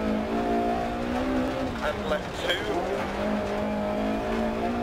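Rally car racing through a Greece stage in a video game, its engine droning steadily with a sustained tonal whine that dips and recovers mid-run, gravel and tire noise underneath while a co-driver calls pace notes over it.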